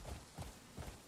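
Horse hooves clip-clop faintly in Crimson Desert during riding, three soft muffled beats spaced evenly within about a second.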